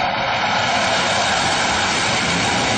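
Fighter jet landing on an aircraft carrier, a loud steady engine roar that fills the whole stretch without a break and with no voices.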